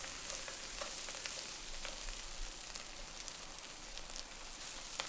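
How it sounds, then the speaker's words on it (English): Meat and cheonggukjang (fermented soybean paste) frying in oil for a Korean stew, giving a steady, close crackling sizzle with scattered sharper pops throughout and no voices. "frying them with oil from the meat"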